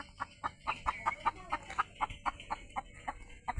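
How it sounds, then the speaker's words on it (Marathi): Chickens in a free-stall cattle shed cluck in a steady series of short, evenly spaced calls, fairly close, with no talking. "आणि कोंबड्या पाहिजे मुक्त गोठ्यामध्ये"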